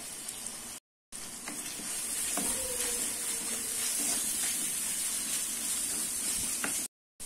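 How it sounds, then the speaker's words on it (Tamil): Tomatoes sauté in a pan while Salem roadside-style chicken salna is cooked, giving a steady, close sizzling hiss with a few faint stirring clinks and no talk. "தக்காளி நல்லா வதங்கட்டும்."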